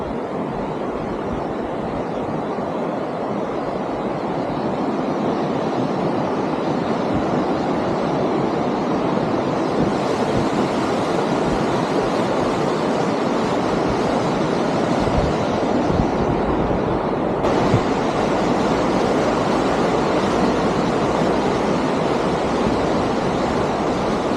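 Steady, full rushing water noise, a constant broadband roar of a fast mountain stream in Rize, Turkey, with no voices, continuous throughout.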